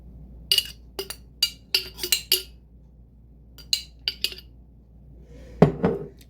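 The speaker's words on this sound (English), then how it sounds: "Then if we need to, we can definitely spread it out with the spoon" A spoon clinks and taps repeatedly against a dish while spreading marinara sauce over eggplant cutlets, a close, irregular series of sharp metallic ticks ending in a duller scrape.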